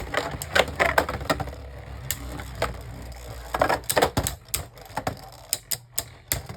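Beyblade Burst spinning tops Big Bang Genesis and Eclipse Genesis clash in a plastic stadium, a dense run of sharp clicks and rattling knocks that grows busier and louder toward the end.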